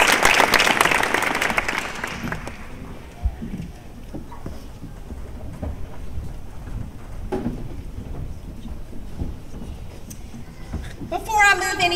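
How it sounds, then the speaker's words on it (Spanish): Congregation applause at a church service honoring a women's missionary group, dense clapping loud at first and fading after a couple of seconds into quieter room noise with scattered sounds, and a brief bright tone near the end. "Vamos a darles un aplauso y gracias."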